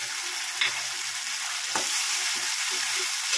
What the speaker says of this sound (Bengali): ভালো করে কষাই নেব